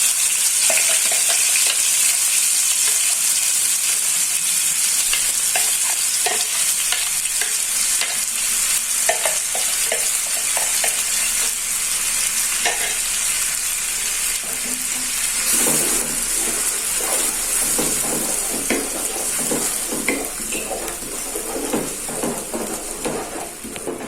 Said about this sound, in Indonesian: Untuk bumbunya ini saya tumis dulu.